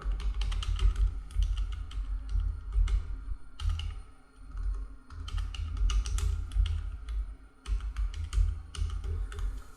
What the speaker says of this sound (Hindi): इसमें आपको टाइप करना होगा